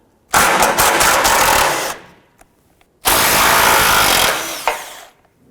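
Pneumatic or power impact tool loosening 12mm bolts on the bumper impact beam of a 2009-2015 Honda Pilot, two loud sustained bursts of rattling whir separated by a short pause, close and without talk.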